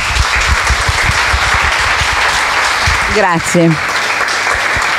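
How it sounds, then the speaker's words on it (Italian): An audience claps after an astrology lecture on Chiron, the wounded healer, in a hall; the dense, sustained applause keeps going while a voice briefly says thanks partway through. "Se l'è meritato tutto questo applauso"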